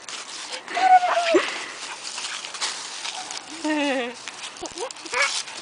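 A puppy playing in leaves whimpers and yips in short, wavering high cries, close by, with a person talking in between.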